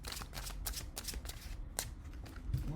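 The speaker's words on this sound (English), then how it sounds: "Good shuffle and another good rifle on these." A deck of tarot-style cards is shuffled and riffled by hand at a reading table, giving rapid papery flutters and snapping bursts in quick succession, close and clear with no talking.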